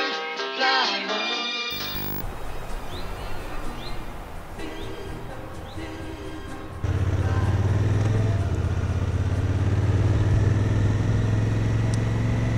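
A Honda CRF250L motorcycle engine while riding: a wash of road and wind noise that swells into a louder, steady low engine drone for the last several seconds.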